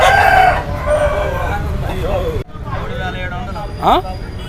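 A heavy Kakinemmali rooster crows at a busy Sunday country chicken market in Ongole, with loud drawn-out calls over crowd chatter, background traffic and other birds.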